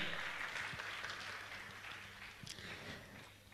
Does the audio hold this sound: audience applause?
yes